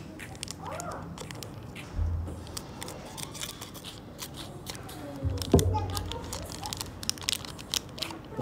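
Scissors snip open a foil trading card pack, with small crinkling and crunching of the wrapper, a few louder cuts and quiet rustling in between.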